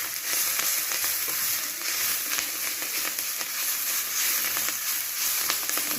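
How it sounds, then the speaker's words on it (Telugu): Drumstick leaves fry in a pan, giving a continuous close sizzle with scattered crackles and occasional stirring scrapes, with no voices over it. "మనకి బాగా ఫ్రై అయిపోవాలి."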